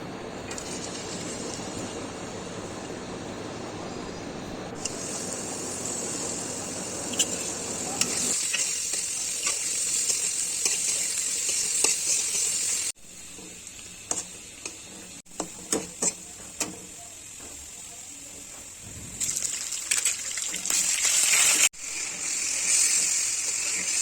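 Oil sizzling and crackling steadily as poa fish fries in a wok, with utensil scrapes and a few sharp clinks, growing louder and brighter in bursts.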